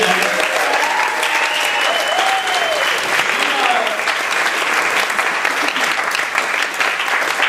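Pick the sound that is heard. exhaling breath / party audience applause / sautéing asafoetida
party audience applause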